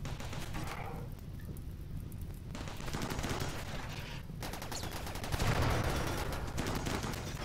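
Video-game gunfire crackles through a RimWorld battle against tribal raiders, with turrets firing in dense, continuous volleys that swell louder toward the end.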